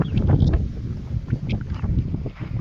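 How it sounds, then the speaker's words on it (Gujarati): Strong wind blowing by a river, a loud rushing buffet over the microphone with rumbling gusts and fluttering bursts throughout, close and continuous. "હાવ પવન ફૂંકી દીધો છે"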